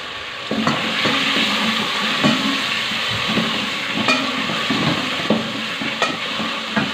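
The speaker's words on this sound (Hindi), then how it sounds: "बस अब हम इसको गोश्त को भूनेंगे।" Mutton with masala frying in a pan for bhindi gosht, a loud continuous sizzle broken by regular scraping strokes of a spoon stirring the meat.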